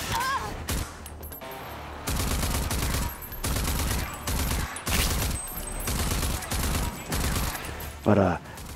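Gunfire from the shooter video game Rage 2, a dense loud barrage of rapid shots and fusillades in repeated bursts with brief gaps, over game music, with a short rising whine near the end.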